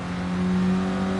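Clio Cup race car engine held in fourth gear, a steady close-up drone with the pitch climbing slowly as revs build, loud and continuous with no talk.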